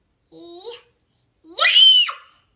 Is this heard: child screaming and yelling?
yes